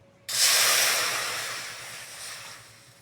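A little water hits a hot kadai holding oil, salt, turmeric, chili and chicken masala over a lit stove. It bursts into a loud steamy hiss at once, which then slowly fades.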